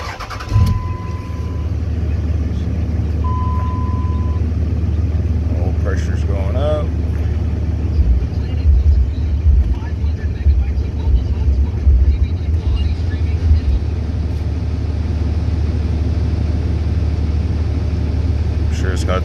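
A truck engine fires up for its first start after an oil change with three gallons of oil, a Wix filter and an NMF additive, then settles into a loud, steady idle that runs throughout.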